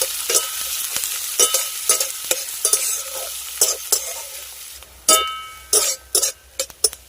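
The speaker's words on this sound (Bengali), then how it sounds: "এবার পেঁয়াজটাকে নরম করে ভেজে নেব" Chopped onions fry in a pan for a Bengali tita dish, with soft sizzling broken by repeated scraping strokes of a spatula, sharp scratchy clatters coming in uneven bursts, close and clear.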